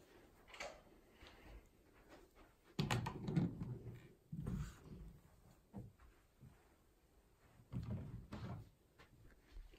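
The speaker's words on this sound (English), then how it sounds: "I'm going to lock this door forever" Indoors, a door is closed and locked, producing several near wooden knocks and latch clunks spread over roughly ten seconds, with a few quiet breaths and movements between them.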